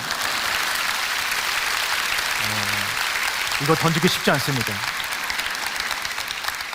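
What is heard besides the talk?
applause in church audience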